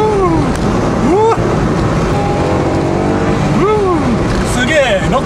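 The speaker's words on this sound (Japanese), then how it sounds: "すげえ、6000回転ぐらいまでガーンと上がります。" A Honda S660 Modulo X engine revs up hard to around 6000 rpm, rising in pitch over a loud, steady drone of road and cabin noise.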